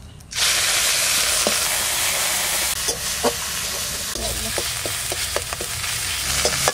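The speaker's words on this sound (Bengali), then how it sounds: "তেল দিয়ে দিলাম, ফোড়নে দেবো জিরে, শুকনো লঙ্কা, পেঁয়াজ বাটাটা প্রথমে দেবো" Cumin, dry chili and onion paste hit hot oil for a pomfret fish curry, giving a loud, steady sizzle that starts abruptly and carries on close up. Occasional spoon taps and scrapes sound through it.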